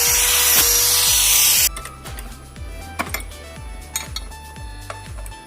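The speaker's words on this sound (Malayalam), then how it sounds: "വയർ ബ്രഷിൻ്റെ വീല് ഹാൻഡ് ഗ്രൈൻഡറിൽ ഉപയോഗിച്ചിട്ടാണ് ഇത് ഫുള്ള് ഗ്രൈൻഡ് ചെയ്ത് കളയാൻ വേണ്ടി പോകുന്നത്" A wire brush wheel on a hand grinder scrubs rust off a steel knife with a loud, harsh, continuous whir for about a second and a half. It then cuts out, leaving a rhythmic ticking and light metallic clinks.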